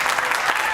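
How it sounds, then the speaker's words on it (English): A beach-side entrepreneur pitch event audience claps for the competing entrepreneurs, a brief burst of dense applause caught mid-stream. "Give all of these entrepreneurs just another round of applause"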